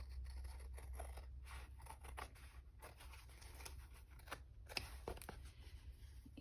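Scissors cut through fabric in a quiet indoor craft session, giving soft, scratchy snips and rustles that come in irregular bursts over a low background hum.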